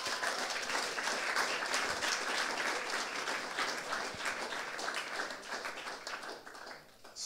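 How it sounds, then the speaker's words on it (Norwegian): Audience applause fills Nasjonal Jazzscene at a tenth-anniversary jazz concert, a dense, steady wash of many hands clapping at moderate distance that eases off slightly near the end. "Så en stor applaus til dem."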